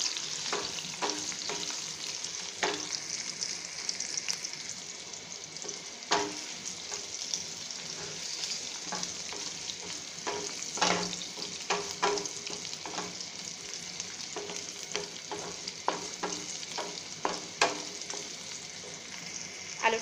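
Potatoes for a shahi aloo korma fry lightly in a pan: a continuous soft sizzle with regular stirring scrapes and taps, all close and fairly quiet.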